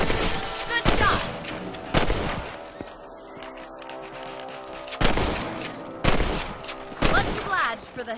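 Rifle shots aimed at rabbits ring out in the Western video game Red Dead Redemption: five loud, sharp cracks at uneven intervals, each trailing off in a rolling echo over a low outdoor ambience.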